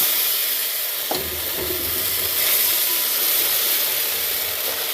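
Pesarattu, a green gram dosa, sizzles and hisses steadily on a hot pan, loud and close, with a brief clink near the start and no voices.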